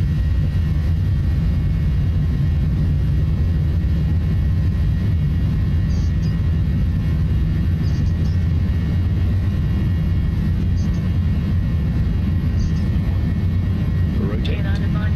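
Simulated jet airliner engines roar steadily on a takeoff roll in Microsoft Flight Simulator X, a loud constant drone that runs the whole way, with a few brief higher-pitched blips.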